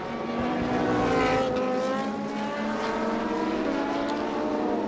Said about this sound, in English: Listen to those engines roaring past here.